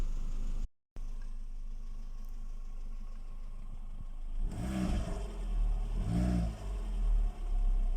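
Renault Clio with 128,000 miles idling after a battery change, a low steady engine hum that swells into two rising revs near the end, close and fairly clear with no talk.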